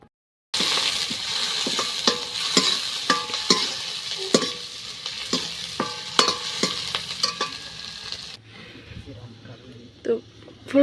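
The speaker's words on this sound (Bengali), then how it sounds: "খিচুড়ির বাগার দিয়ে দিন।" Spices for khichuri tempered in hot oil in a heated kadai, a loud, close sizzle with steady stirring and scraping clinks, then a quieter tail with a few knocks.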